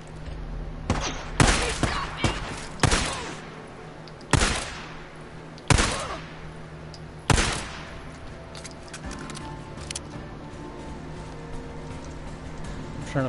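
Gunfire in the video game Days Gone comes as a series of sharp, loud shots spaced a second or two apart, each with a short decaying tail, over a low ambient background that fades quieter afterward.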